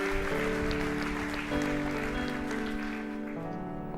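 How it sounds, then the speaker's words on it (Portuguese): A church congregation applauds in praise during an evening service, steady clapping spread across the room under a sustained organ or keyboard chord, moderately loud and continuous throughout. "Dê o melhor aplauso, você pode dar ao Senhor"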